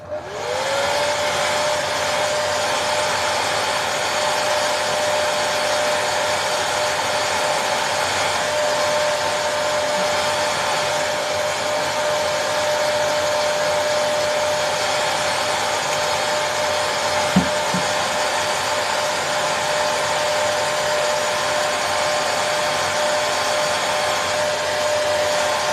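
A hair dryer runs steadily for a long stretch, drying paint on a snowy mountain scene painting; a constant close whirring blow with a high whine, one brief click partway through, and nobody talking.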